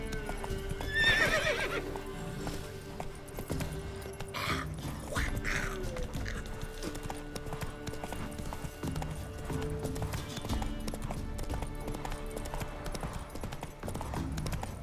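A horse galloping in the video game Witcher 3: Wild Hunt, with steady rhythmic hoof clip-clops throughout, a whinny near the start and someone talking briefly.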